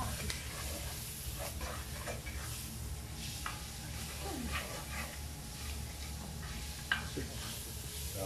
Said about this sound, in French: Et on remue. Vas-y Martine, tu remues bien.